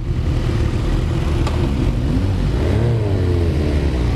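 A BMW S1000R motorcycle engine revs hard close by, rising and falling in sharp, loud bursts with no voices over it.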